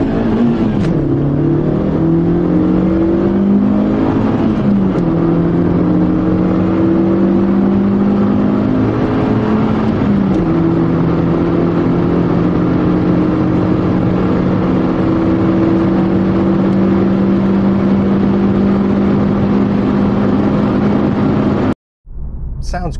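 A 2005 Suzuki Ignis Sport hatchback with a 105 hp 1.5-litre engine accelerates hard from a standstill toward 100 mph, its engine note rising steadily through several gear changes. It drones loud and close throughout and cuts off abruptly near the end.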